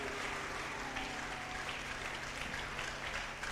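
A church congregation applauds and cheers for the Lord, steady sustained clapping throughout, fairly loud and unbroken with no speech over it.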